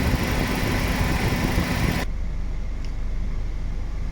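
A Suzuki Ciaz engine idles in a repair shop after an AC compressor clutch replacement, a steady close low rumble that drops abruptly to a quieter hum partway through, with no talking.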